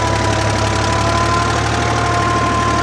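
A tractor engine pulls a five-tine plough under heavy load, a loud, steady diesel drone with a low throbbing knock running continuously throughout.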